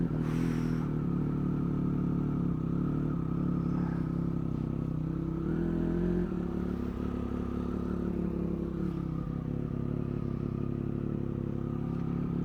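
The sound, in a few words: Triumph 1200RS motorcycle engine starting and riding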